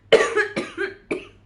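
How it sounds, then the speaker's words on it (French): Three harsh coughs close to the mic, the first loudest, with brief pauses between them. "Donc du coup, je tousse"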